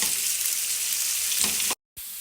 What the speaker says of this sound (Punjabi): ਇਹਨਾਂ ਨੂੰ ਆਪਾਂ ਚੰਗੀ ਤਰੀਕੇ ਦੇ ਨਾਲ ਭੁੰਨ ਲਾਂਗੇ 골ਡਨ ਬ੍ਰਾਊਨ ਹੋਣ ਤੱਕ